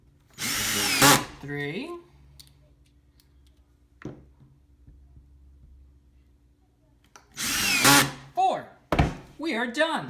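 Short whirring bursts of a screwing tool fastening a camera lucida stand, one at the start and another near the end, with quiet gaps and a few clicks, close up, with people talking between.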